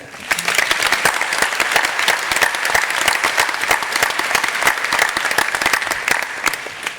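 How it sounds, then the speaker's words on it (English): A graduation crowd claps for award recipients, a loud dense patter of many hands with sharp individual claps standing out, sustained evenly from start to finish. "How about one more round of applause for all of our recipients today?"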